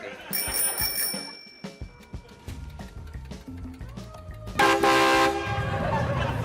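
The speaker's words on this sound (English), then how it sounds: "Who honked the horn? That was me. I mean, it's the bike." A bright bicycle horn honk rings out after some scattered tones, a short sharp blast followed by ringing and quieter chatter.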